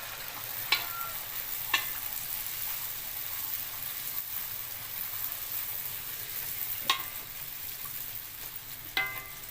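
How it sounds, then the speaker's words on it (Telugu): Puri frying in hot oil, a quiet steady bubbling hiss with a few sharp ladle or utensil taps scattered through. "వేడికిన ఆయిల్ ఇలా పైన వేస్తూ ఉంటే పొంగుతూ వస్తుందండి పూరి"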